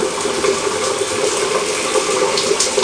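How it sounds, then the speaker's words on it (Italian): Shower water running steadily in a home bathroom, a continuous broadband hiss and splash that holds at an even, fairly loud level throughout with no voices. "adesso mi faccio una bella doccia"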